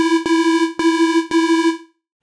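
Detuned fat saw synth bass built in Reason, three detuned copies spread across the stereo field. It plays as four even repeated hits, loud and sustained, then cuts off into silence.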